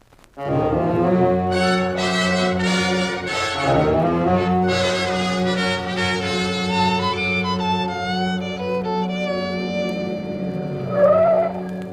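Car driving off as a sound effect in an old radio drama, a loud, steady engine drone that starts abruptly and holds, its pitch shifting as it accelerates, with a squeal near the end.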